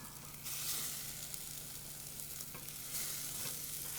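Kofta sizzling steadily in a very hot pan, a constant close frying hiss with brief louder flare-ups as the meat sears, no voices.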